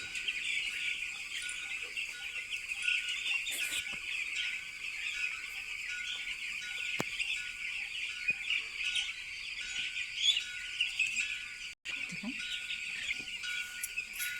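A dense, continuous chorus of young broiler chicks peeping inside a poultry shed, steady and bright throughout with a brief drop near the end.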